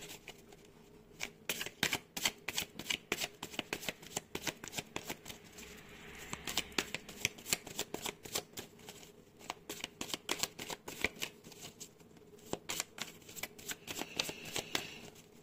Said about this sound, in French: je vais te prendre une carte du positif et une carte du négatif